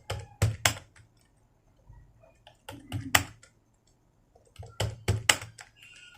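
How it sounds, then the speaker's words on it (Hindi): Keys clatter on a computer keyboard during Hindi typing practice, in three separate bursts of quick, close taps with short quiet gaps between them. "धीरे धीरे आपको इसको टाइपिंग प्रैक्टिस करना है।"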